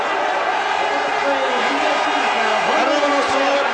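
A huge Italian Tifosi crowd roars and shouts at the Monza podium of the 2003 Italian Grand Prix, a dense, loud, continuous wall of voices with a few whistles cutting through.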